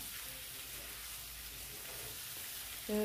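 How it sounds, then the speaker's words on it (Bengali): Chicken frying in oil with onion in a pan, a faint steady sizzle under a low background hum, with a brief tonal sound entering at the end; no voices. "চিকেনটা যখন এখানে ভেজে নেব পেঁয়াজ এবং তেলের সঙ্গে, চিকেনটা হালকা ভেজে নেব"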